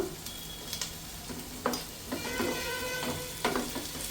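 Shallots and green chillies frying in a pan for a country chicken curry, a steady soft sizzle with occasional sharper clicks and scrapes of stirring, close and fairly quiet with no talk.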